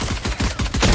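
Rapid automatic gunfire from a video game firefight, a fast string of punchy shots at an even rhythm, loud and close.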